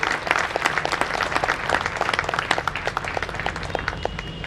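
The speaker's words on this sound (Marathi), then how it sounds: "आपण एकदा टाळ्यांच्या गजरात त्याच्या कामाची आपण त्याला दाद देऊया" A crowd applauds at the inauguration of a district and additional sessions court in Wai, producing dense, continuous clapping that stays fairly loud and even through the short burst.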